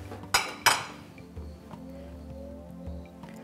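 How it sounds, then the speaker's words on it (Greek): A knife cuts cherry tomatoes in half on a board, with two sharp close knocks near the start and then a few softer taps and light clinks. "Κόβουμε τα ντοματίνια όλα στη μέση"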